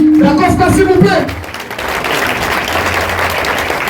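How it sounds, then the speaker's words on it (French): At a wedding reception, a speaking voice gives way to a broad wash of guest applause for the d'Acosta family, steady and moderately loud for the remaining seconds. "Est-ce qu'on peut applaudir la grande famille d'Acosta, s'il vous plaît?"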